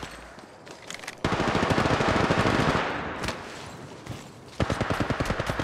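Rapid automatic gunfire rattles in Apex Legends Mobile, two long bursts of close, loud shots separated by a brief lull and shorter pops, with no talk.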